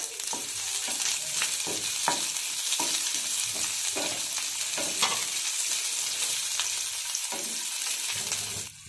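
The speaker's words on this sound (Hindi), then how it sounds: "तापरे पियाज आ शिमला मिर्च दे दबा।" Onion and capsicum stir-fry in a pan for cabbage Manchurian, a busy, close frying crackle punctuated by repeated spatula scrapes and knocks at an uneven rhythm, with no voices.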